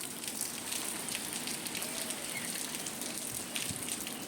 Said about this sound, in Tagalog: bigla na lang umulan ulit at ang ulan ay may kasama pang malakas na hangin